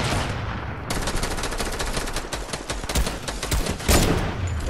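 Dense video game gunfire, rapid machine-gun bursts and overlapping shots crackling steadily, growing louder and sharper toward the end with a few heavy close blasts.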